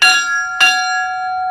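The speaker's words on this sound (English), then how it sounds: "You guys want to hear me ring the bell?" A large old bell from a fire station, taken off an American LaFrance fire truck, is struck twice nearby, each loud clang leaving a long metallic ring that hangs in the air.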